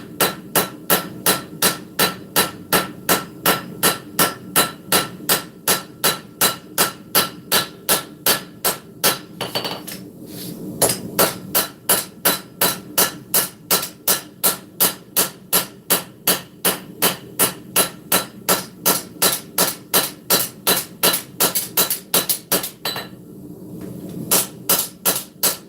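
Steady, rapid hammer blows ring out on a steel cleaver blade being forged, dozens of evenly spaced metallic strikes with two brief pauses, loud and close with no talking.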